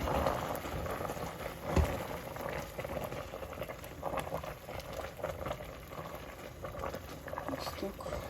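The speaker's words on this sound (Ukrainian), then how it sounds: "М'ята вже закипіла. Ось кипить." A pot of mint jam bubbles at a steady boil, with soft popping and gurgling close by and a faint background hum.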